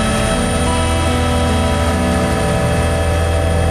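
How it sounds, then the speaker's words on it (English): A U.S. Air and Marine helicopter on a Border Patrol operation east of San Isidro near the U.S.–Mexico border produces a steady, loud engine and rotor drone that holds constant throughout, with no talk. "They've called in a U.S. Air and Marine helicopter to back them up."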